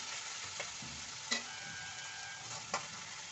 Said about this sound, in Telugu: పచ్చివాసన పోయే వరకు శనగపప్పుని బాగా వేగనేయించుకోండి